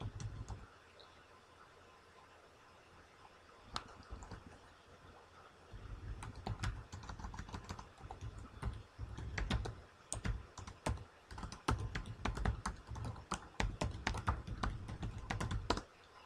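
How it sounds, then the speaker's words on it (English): Computer keyboard being typed on to enter a link, a close run of light, quick key clicks that starts sparse and grows into steady bursts of rapid tapping, with no talking. "just type that link in the box, press enter."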